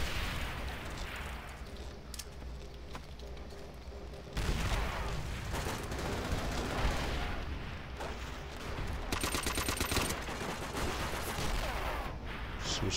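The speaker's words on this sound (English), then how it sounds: "I'm shooting right at this guy." Gunfire in the video game Call of Duty: World at War, played on a Ryzen 1700X PC: sustained dense volleys of shots and blasts fill the whole stretch at a moderate, steady level, with brief sharper bursts.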